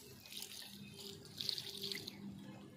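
Water from a one-litre container is poured gently onto a spinach plant, a faint, soft trickle and splash that swells midway and then tapers off, heard alone without talk.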